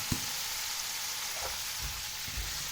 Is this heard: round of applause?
no